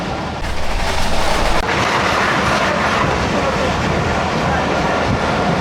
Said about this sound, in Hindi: प्रेम नगर रेलवे स्टेशन पे ये गुजरी 15 अप कराची एक्सप्रेस